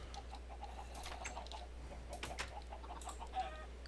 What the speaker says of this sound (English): Goodness, chickens!